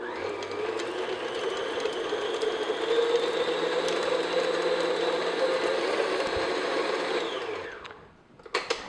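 An electric mixer whirs steadily as it beats unsalted butter for a cake, a close, even motor drone lasting several seconds before cutting off, followed by a few light clatters.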